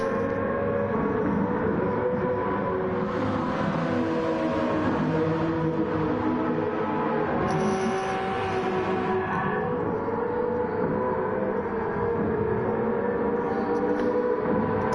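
Vintage 1990s Le Mans race cars, including a Porsche 911 GT1 and a Viper, roar through the Porsche curves at Le Mans in Gran Turismo 7, a steady loud engine drone with shifting revs from a tightly packed field.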